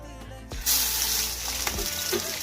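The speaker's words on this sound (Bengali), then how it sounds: "এখন তেলটা দিয়ে দেব। এখন মাছগুলো ভেজে নেব।" Phasa fish sliding into hot oil, a sudden bright sizzle that jumps up after a short clatter and keeps crackling steadily close by.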